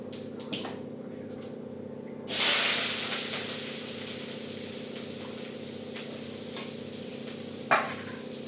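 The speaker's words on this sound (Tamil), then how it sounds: "இப்போ கருவேப்பிலை, ஒரு பச்சை மிளகா, வெங்காயம் போட்டு வதக்கலாம்." Curry leaves, green chili, onion and fennel drop into hot oil in a pan with a sudden loud sizzle that settles into a steady frying hiss, followed by a brief second flare.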